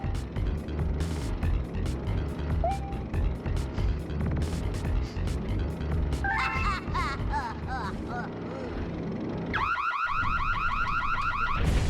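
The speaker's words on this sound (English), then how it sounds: "The alarm honestly sounds like a car alarm, to be completely honest." A boss alarm in Super Mario Galaxy blares like a car alarm, cycling warbling electronic tones over busy game music and effects, growing louder and more insistent near the end.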